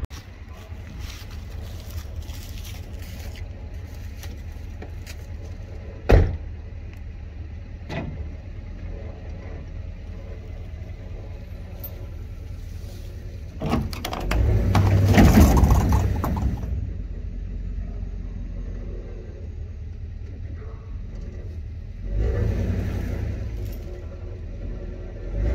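A truck engine drones steadily and then revs up hard as it pulls a post or stump out with a chain, with sharp clanks between pulls and a second shorter rev near the end.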